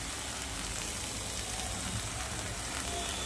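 Spice masala frying in a pan for a homestyle egg curry gives a steady, even sizzle with dense crackling hiss that holds at one level throughout, with no voices over it.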